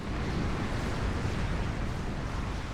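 Artillery shells explode in a real-time strategy battle, a dense, continuous roar of deep booms and rumbling blasts holding at steady loudness with no voices over it.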